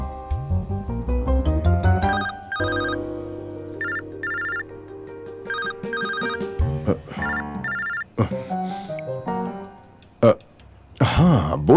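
A telephone rings in repeated short bursts over a dramatic music score, with brief gaps and a voice breaking in near the end.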